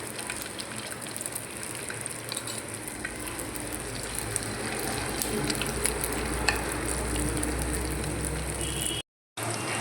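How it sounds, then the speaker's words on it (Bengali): Marinated chicken pieces fry in white oil in a wok, giving a steady, loud, dense sizzle and crackle throughout, with one brief dropout near the end and no voices. "এবার এখানে ম্যারিনেট করা চিকেনগুলো ফ্রাই করে নেব।"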